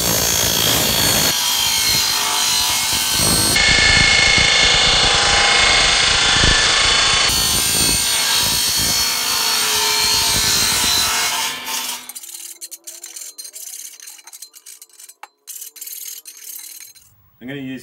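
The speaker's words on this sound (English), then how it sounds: "You can quite easily do aluminium in your miter saw." Miter saw cutting aluminium strip, a loud sustained grinding cut for about twelve seconds with rising and falling intensity, then it cuts off into quieter handling clatter and faint voice-like sounds.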